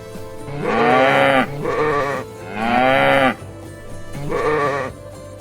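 Sheep bleat loudly and close by, three long wavering calls separated by short pauses, with no talk over them.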